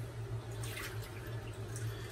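Bloom water splashes and drips out of a shaving soap tub, a short wet pour over a steady low hum, with no speech.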